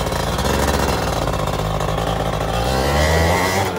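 A modified Yamaha F1ZR 110cc two-stroke motorcycle engine runs loud and close with a rough, buzzing, rattly tone, given light throttle blips that swell slightly toward the end, with no voices over it.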